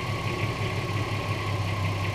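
A Subaru Forester fitted with GT35/TD04 twin turbos idles steadily after starting, a constant low engine drone with a faint mid-range whine, close and loud, no talking.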